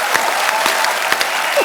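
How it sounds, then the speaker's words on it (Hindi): Studio audience applause on a comedy talk show set, a dense burst of clapping at steady loudness with a few sharper claps standing out, heard alone without talk. "जोरदार तालियां।"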